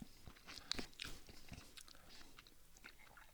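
Quiet, close-up chewing of a spicy black pepper beef and rice instant meal, with soft crunches and moist bites repeating irregularly and no talking.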